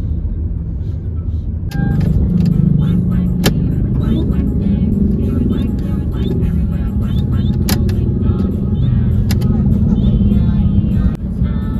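A Toyota Camry engine runs roughly and sputters at close range on a hill road toward Ciwidey, a steady loud rumble broken by sharp irregular clicks and knocks.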